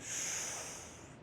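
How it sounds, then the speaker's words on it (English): A single deep breath drawn in through the nose during a morning hip and spine mobility routine, a steady close airy inhale with a rising then slowly fading hiss, heard alone without talk. "Deep breath in"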